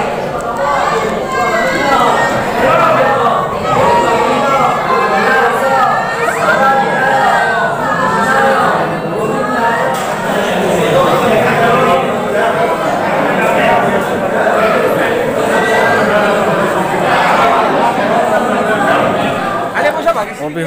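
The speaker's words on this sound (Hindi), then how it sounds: "ये देखो कितना भीड़ है यहाँ" Dense crowd at Umananda Temple, a Hindu river-island temple, with many overlapping voices chattering steadily and close, footsteps and general bustle throughout, no single voice standing out.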